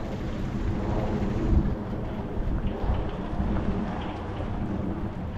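Steady rain falling outdoors during a walk in rainy weather, a dense even hiss with occasional low rumbles, constant throughout with no talk.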